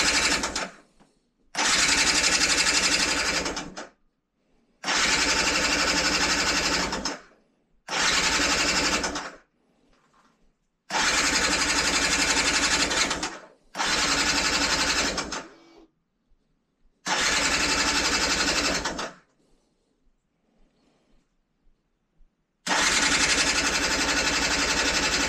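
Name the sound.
Yamaha TDR 125 motorcycle engine restart attempt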